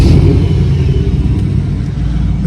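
A car engine at a Huntsville car show holds a loud, steady low rumble close by, with a slight throttle swell, and no voices.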